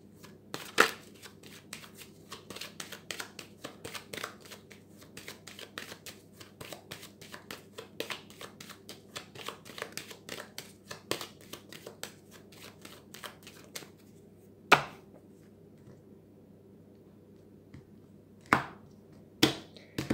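A deck of tarot cards being cut and shuffled for a reading: a steady run of soft close riffling taps and snaps, with a few sharper card slaps near the end and no talking.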